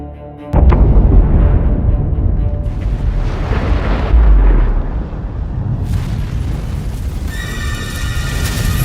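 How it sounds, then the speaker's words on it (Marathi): An atomic bomb explodes over Hiroshima as an abrupt, heavy boom that swells into a loud, sustained low roar and rumble, with no voices over it. "हिरोशिमाच्या आकाशात एक प्रचंड स्फोट होतो अणुबॉम्बच्या आगीत लाखो जीवन क्षणार्धात भस्मसात होतात"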